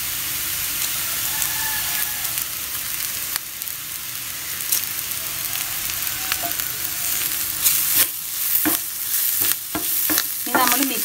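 Curry leaves drop into ginger and garlic frying in a pan, raising a steady close sizzle with spatula scrapes and taps that grow busier and crackle toward the end.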